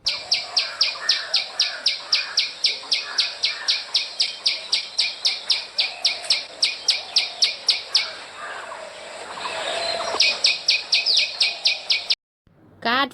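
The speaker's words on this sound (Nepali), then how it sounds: "फिस्टे चरा अथवा दमाई चरा।" A small songbird repeats a sharp, high chirp in a fast, steady rhythm, dozens of notes in a row, then pauses briefly amid faint background hiss before resuming the same clear series.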